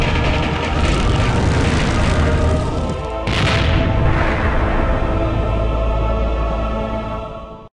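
An airplane engine roars in the Full Throttle video game, a loud continuous droning rumble with a brief break and a sharp surge midway before fading at the end.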